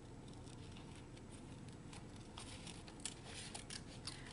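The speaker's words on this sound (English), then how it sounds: "I'm going to cut this out." Scissors snip through paper while a butterfly shape is cut out for a pendant, quiet rapid clicks and crisp cuts in an irregular rhythm, close and faint, with no speech.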